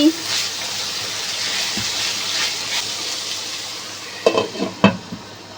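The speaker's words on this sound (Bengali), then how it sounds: "সমস্ত ভেজিটেবলসকে আমি ফ্রাই করছি আর রুটি করব" Vegetables frying in a pan in a home kitchen, a steady soft sizzle running throughout, then a few stirring clatters and knocks near the end.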